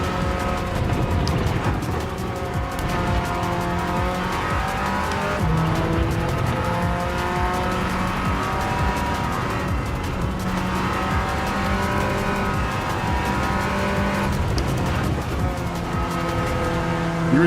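A car spins out in the Gran Turismo 7 racing game on PS5, with engine roar and tire squeal held at steady loudness throughout, heard alone.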